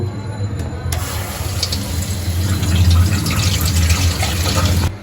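Cold water pours steadily over just-boiled noodles to rinse them, a continuous splashing rush that starts abruptly and runs nearly five seconds, loud and close, with no voice.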